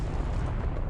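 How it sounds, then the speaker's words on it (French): A chain of explosions bursts in a cartoon, a dense, continuous roar of blasts and booms that stays loud and rumbling for about a second. "Explosion en chaîne!"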